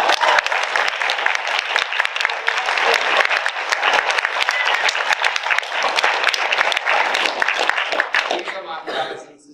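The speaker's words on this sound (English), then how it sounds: "Give them a round of applause." Dense, loud applause from a large convention panel audience fills the space steadily, with a few cheers mixed in, before tapering off at the end.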